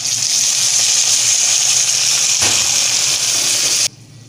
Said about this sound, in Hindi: इसमें डालेंगे हम थोड़ा सा पानी, इसको थिक ग्रेवी में बनाएंगे और थोड़ा सा पानी डाल देंगे।